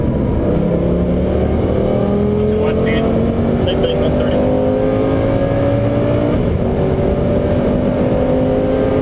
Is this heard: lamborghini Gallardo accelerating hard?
yes